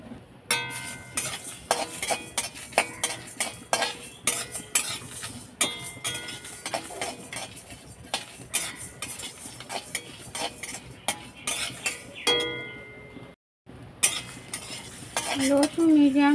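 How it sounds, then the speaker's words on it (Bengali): Whole spices, including cinnamon, coriander seeds, fenugreek and fennel, are dry-roasted in a pan for pickle masala, with a steady stream of close metallic scrapes and clinks of a spoon stirring against the metal and a light sizzle underneath. "লো টু মিডিয়াম ফ্লেমে 2 মিনিট নাড়াচাড়া করে ভেজে নিয়েছি।"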